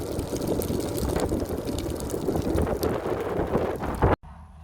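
Strong wind gusts outdoors beside a fire buffet the microphone in a loud, continuous roar, cutting off abruptly near the end, with no talking.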